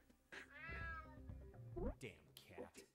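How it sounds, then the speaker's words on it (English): A cat in the video game UnMetal lets out a drawn-out, wavering meow, followed by shorter yowls, with a voice speaking around it. "Damn cat."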